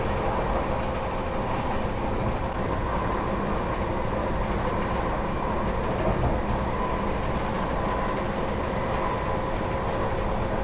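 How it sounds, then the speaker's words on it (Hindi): Interior rumble of the 12417 Prayagraj Express running non-stop at about 130 km/h at night, a steady low roar of wheels and carriage noise holding evenly throughout with no talk. "अपनी ट्रेन जो है क्या चलनी शुरू हो गई है, बिल्कुल नॉन स्टॉप 130 पर अपनी ट्रेन चल रही है भाई।"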